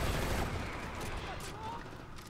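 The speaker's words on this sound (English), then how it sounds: "Gun turret would cut the enemy to ribbons, Agent." A mounted gun turret blasts continuously in the Crackdown 2 video game, a dense roaring rattle of rapid fire that stays loud and unbroken throughout.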